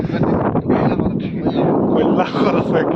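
Strong wind gusting across a high hilltop summit, a loud steady roar of buffeting and rumbling noise that fills the whole three seconds without a break.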